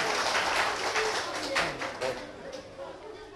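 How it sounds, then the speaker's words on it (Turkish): A wedding-style audience claps along to a Turkish music event, a steady dense patter of hand claps filling the room at close range, continuous from start to finish with a few sharper bursts and faint talk underneath. "Alkışlıyoruz."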